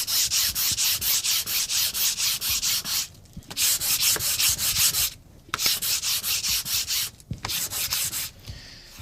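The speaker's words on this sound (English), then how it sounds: "I'm going to give it a quick sanding" Dry, rhythmic sanding strokes rub over a gesso-coated painting surface, steady back-and-forth passes with brief pauses, close and alone.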